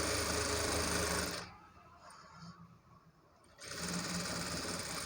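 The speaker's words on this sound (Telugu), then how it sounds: "అందుకనే నేను ఈ మిషన్ పైన ఇలా కుట్టేస్తున్నాను" Domestic sewing machine stitching a fall onto a cotton saree, a loud steady whirring run that stops for about two seconds, leaving a quiet room hum, then starts again at full speed close by.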